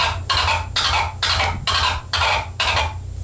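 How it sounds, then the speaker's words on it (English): Crab scratch on a DJ turntable with the fader open: six quick bursts of bright scratched sound in an even rhythm, loud and close over a low steady hum, with no talking. "The crab would sound like this"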